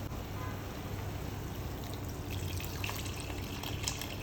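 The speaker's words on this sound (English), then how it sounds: "I'm going to put in some water now" Water running into a cooking pot for ora soup, a soft continuous trickle and splash heard fairly close, fairly quiet, with no talking over it.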